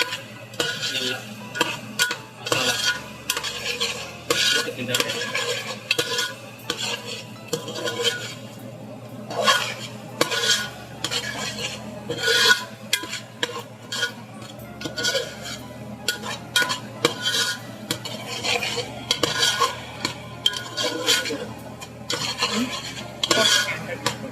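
A spoon repeatedly stirs and scrapes biryani masala for chicken biryani in a metal pot, giving close, rhythmic scraping and clinking strokes that continue steadily alongside a light background sizzle.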